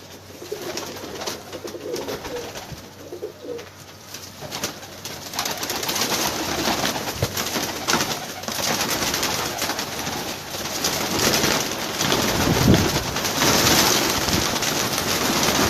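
Pigeons of prized breeds coo in soft, repeated low calls amid a dense, noisy ambience, with the cooing most distinct early on and then blending into steady background clatter.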